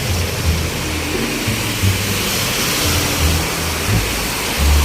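Floodwater gushes strongly through a neighbourhood with no rain, making a loud, continuous broadband roar like rushing rapids, with low rumbles and thumps rising and falling beneath it.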